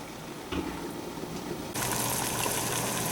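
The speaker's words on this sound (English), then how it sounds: "pour some cold water onto these ones ASAP so they stop cooking" Cold water poured over freshly blanched green beans, a steady close rush of running water that suddenly grows louder and fuller partway through and keeps gushing without pause.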